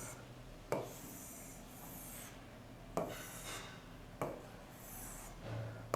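Pen scratching out a statistics table by hand, soft raspy rubbing strokes with a few sharper taps as it touches down, close and quiet with no talking.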